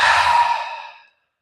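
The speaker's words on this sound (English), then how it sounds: "Exhale through your mouth." A single long exhale through the mouth during a breathwork exercise, breathy and close, fading smoothly to silence.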